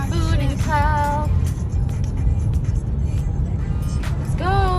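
Car driving slowly on a snowy Texas road during a winter storm, a steady loud engine and road rumble throughout, with brief voice-like tones rising over it at moments.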